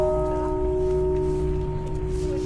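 A single church bell at a fortress in Oslo rings steadily close by, its tone sustained and humming with no talk over it.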